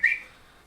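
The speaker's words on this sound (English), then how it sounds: "he's going to try and whistle again" A single short, high whistle from a player at a tabletop dice game sounds sharply and then fades into quiet room noise, brief and close with no talk.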